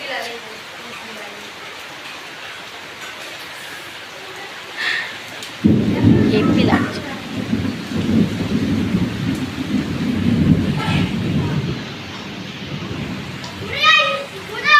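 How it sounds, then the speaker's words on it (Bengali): Thunder rolls in a deep, sustained rumble for several seconds during steady rainfall, with children's voices and adult talk heard over the storm. "এদিকে কি সুন্দর বৃষ্টি হচ্ছে না কি বলবো হেভি লাগছে ঠান্ডা না হওয়া দারুণ লাগছে আর তেমন সঙ্গে মেঘ ডাকছে গুম গুম গুম গুম"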